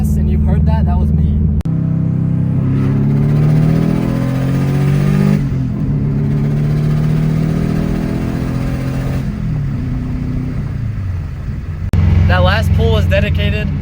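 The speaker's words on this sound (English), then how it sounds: "That was me brake boosting." A 500hp Subaru engine revs hard while brake boosting, its loud low roar rising and falling in sustained pulls, with a voice talking over it at the start and end.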